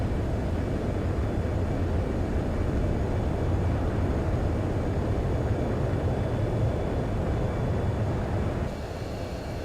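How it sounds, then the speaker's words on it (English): A fighter jet in Ace Combat 7 takes off from a runway, its engine a loud, continuous broadband roar that holds steady throughout and drops away slightly just before the end. "Clear for takeoff once again."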